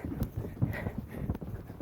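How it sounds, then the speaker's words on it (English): Hoofbeats of a horse cantering under a rider in a bridleless riding session, a steady rhythmic clip-clop of muffled thuds on soft ground, moderately close and alone. "Canter out of there, and maybe the rider will be a little more in time with her horse."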